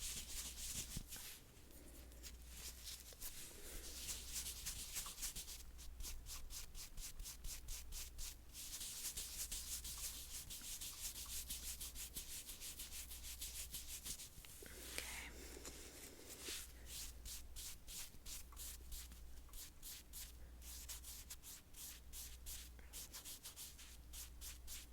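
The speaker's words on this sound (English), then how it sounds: "I'm just going to rub this into your skin." Soft, close-up rubbing as a product is worked into skin for an ASMR makeup session, a steady whispery friction that continues throughout with faint brushing swells and no talk.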